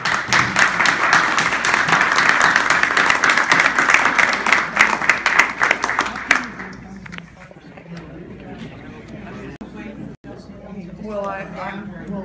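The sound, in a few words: audience applause for debate candidates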